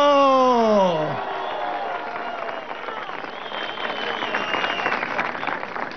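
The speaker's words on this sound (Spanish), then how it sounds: "¡Hagan una bulla los liceos!" A crowd of high school students at a political congress roars and cheers after a brief raised voice, a dense, sustained wall of noise that holds steady for several seconds.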